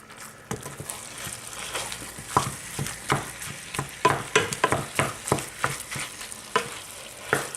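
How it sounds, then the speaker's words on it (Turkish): Ground beef frying in a mix of butter and olive oil, stirred with a spatula: a steady close sizzle broken by repeated sharp scraping strokes against the pan, with no voices. "Kıymamı kavurmaya başladım."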